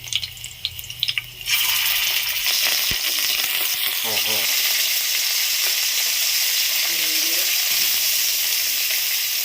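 Chicken goes into a pan with onions, setting off a loud, steady sizzle after a quieter opening. A few knocks and stirring scrapes sound close by over the constant frying.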